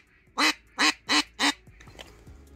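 A 3D-printed duck call blown in four loud, evenly spaced nasal quacks, then fading to quiet background.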